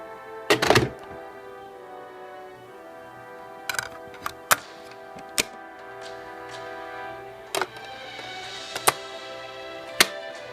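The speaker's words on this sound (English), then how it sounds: "is the sound of putting in a cartridge better than the sound of putting in a disc?" A video game cartridge and a disc being inserted into consoles: sparse plastic clicks, taps and hollow thunks, close and fairly quiet, in an otherwise still room.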